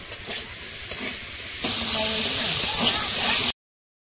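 A tomato hits a hot pan and sizzles as it is stirred, with a quieter fry giving way to a loud steady hiss that runs on before cutting off, a voice speaking briefly over it.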